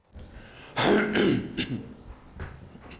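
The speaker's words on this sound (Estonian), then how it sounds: "Ma peaaegu köhatasin." A short, rough throat-clearing burst close to the mic, followed by a softer second rasp and faint breathy noises.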